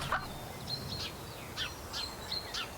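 Faint, thin bird chirps and short whistled calls in a furniture-building video game, repeating at irregular intervals over quiet ambient background.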